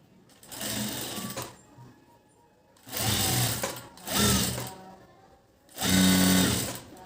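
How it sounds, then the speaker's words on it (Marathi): Sewing machine stitching fabric while making a fitted garment, running in three loud, close bursts of rapid mechanical whirring separated by short pauses. "आता आपण काय करणार आहेत हे साईडला करूया आणि हे शिवायला घेऊया"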